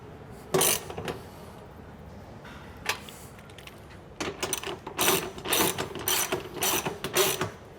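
Ratchet clicking in short bursts while tightening the bottom bolts on a Molle panel mounted to an Ineos Grenadier, a sparse few clicks early then a busier run of rapid, close, fairly loud ratcheting strokes.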